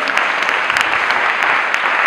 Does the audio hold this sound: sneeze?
no